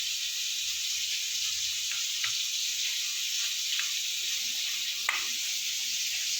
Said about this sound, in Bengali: এদিকে আলুটা আমার ভাজা হোক